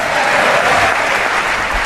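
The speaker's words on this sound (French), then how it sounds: "toute la gauche se lève d'un coup, applaudissements nourris" Long, sustained ovation in the US Congress for the French president, dense and loud applause from a large assembly that holds a steady roar throughout.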